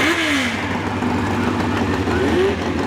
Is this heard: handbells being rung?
no